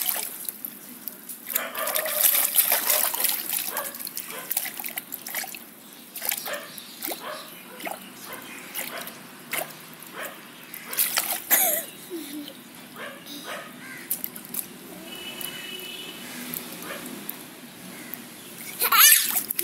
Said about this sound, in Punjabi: ਠੰਡੇ ਪਾਣੀ ਭਰ ਲੈਂਦੇ ਆ